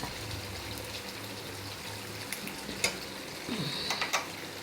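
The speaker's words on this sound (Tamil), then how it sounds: "இது மாதிரி கொஞ்சம் கைவிடாமல் கொஞ்சம் அப்படியே கிண்டிக்கிட்டே இருங்க." Garlic thokku is stirred in a pan, with a soft continuous sizzle and wet scraping of a spoon, plus a few sharper clinks near the end; quiet and close, with no talking.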